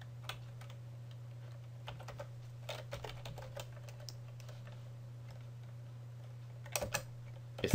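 Light tapping on a computer keyboard while C# code is written, faint scattered keystrokes in short clusters over a steady low electrical hum, with a slightly louder flurry near the end.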